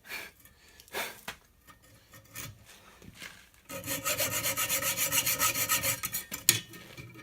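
Hacksaw cutting through a track bar bushing on a Ford Dana 60 axle, rapid rhythmic rasping strokes up close, starting with a few tentative scrapes before settling into steady, evenly paced back-and-forth sawing that ends with a sharp knock.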